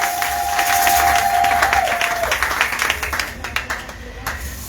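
A church congregation at a morning service applauds and cheers, dense clapping and voices filling the space loudly at first, then thinning out and growing more scattered toward the end.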